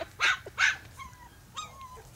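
A puppy on a lead gives two short, sharp barks followed by thin, higher whimpers, fairly close over a low background rumble.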